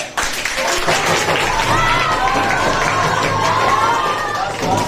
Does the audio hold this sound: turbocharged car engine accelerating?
no